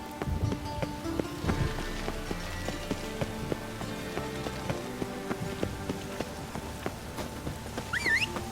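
Steady rain falls in The Witcher 3: Wild Hunt, a continuous patter on surfaces throughout with horse hooves clopping along beneath it.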